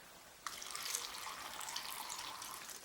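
Water streams from a tap over an apple and carrots in a container, starting abruptly and running as a steady splashing pour, fairly quiet and with no voices.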